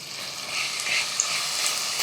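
Finely chopped onion with a pinch of salt fries in oil in a pressure cooker after cumin, giving a steady, fairly loud broadband sizzle with no talk.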